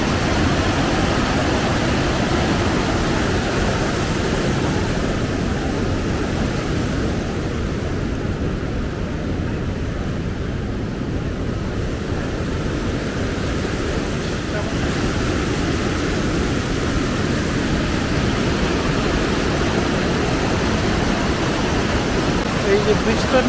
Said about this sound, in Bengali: এই যে ব্রিজটার নিচে জল বেশ ভালোই জোরে নিচে পড়ে যাচ্ছে